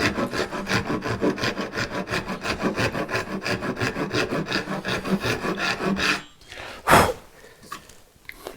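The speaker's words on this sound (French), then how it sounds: "je vais venir couper juste à côté du trait" A hand saw cuts wood just beside a marked line, rasping in fast, steady back-and-forth strokes close by, then stopping, followed by a single sharp knock and quieter shuffling.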